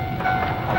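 A train rushes through a level crossing with the barrier down in a Japanese driving-school game, a brief loud rumbling pass with a steady tonal ring from the crossing or horn above it.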